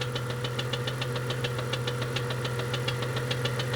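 A Jeep Cherokee 4.0 engine idles steadily with a fast, regular lifter tick running throughout, fitted with new lifters on an old cam; a constant low hum sits under the close, even clicking, with no voices.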